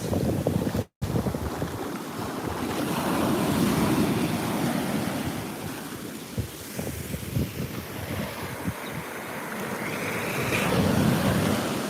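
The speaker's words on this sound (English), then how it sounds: "This is the South Atlantic Ocean" Surf from the South Atlantic Ocean washes steadily onto a beach, a continuous broad roar with wind buffeting the microphone, rising and falling softly with no speech.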